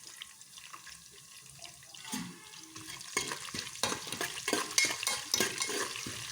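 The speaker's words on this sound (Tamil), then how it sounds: "நல்லா வதக்கி எடுத்துருவோம்." Curry leaves and ginger sautéing in hot oil for Ven Pongal, a close sizzle that builds and is broken by repeated scraping strokes of a stirring spoon against the pan, with no talking.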